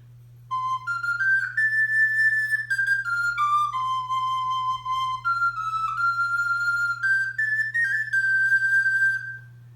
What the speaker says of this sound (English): let me show you what the Sopranino sounds like.